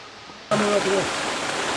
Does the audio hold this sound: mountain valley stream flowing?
yes